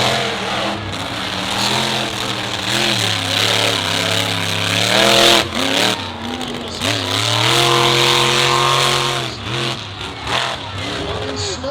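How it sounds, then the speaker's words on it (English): A monster truck on a dirt track at a Cook Out Monster Truck Bash in Charlotte, NC, its engine droning and surging in loud, wavering revs while an announcer talks over it. "The dirt crew truck chassis that he's currently driving is one of the oldest chassis still in competition in the monster truck industry"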